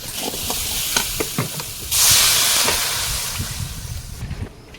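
Water poured into a pan of fried green banana and potato hisses into a sudden loud burst of steam and sizzle, then settles into steady bubbling frying with light stirring clatter, close up with no voices.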